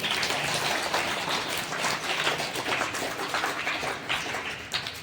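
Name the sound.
applause for the villagers at a school prize ceremony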